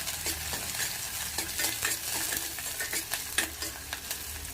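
Chicken pieces stirred into onions frying in a pan, a steady sizzle broken by repeated scraping stir strokes, close and fairly loud with no voices.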